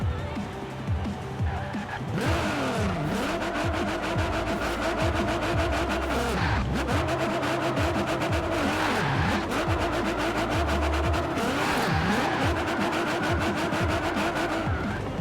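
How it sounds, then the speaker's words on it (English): A Nissan 350Z in the Forza Horizon 4 video game does a reverse burnout, its engine revving hard and loud with long sweeping tire squeal over a constant roar. "let's reverse burnouts. Get these tires real hot here for you."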